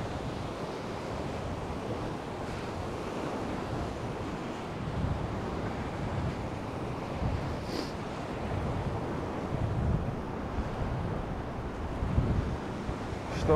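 Steady surf washing on the beach at Vityazevo near Anapa in November, a continuous broad roar of waves mixed with wind buffeting the microphone, with no voices.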